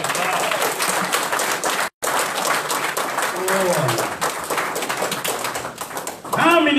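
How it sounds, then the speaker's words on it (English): Audience at a Nation of Islam meeting breaks into sustained applause, dense clapping that holds steady, briefly cuts out, then resumes, with a voice rising over it at the end. "Give yourselves a round of applause."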